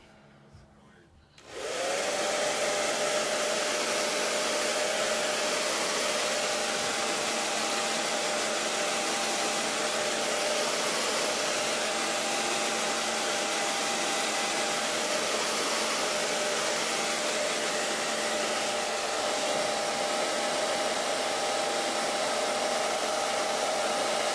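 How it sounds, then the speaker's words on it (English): A hair dryer switches on after a brief quiet moment and then blows steadily and loudly, drying chalk transfer paste on a surface, with a constant whine and no voices. "we're just going to blow dry them"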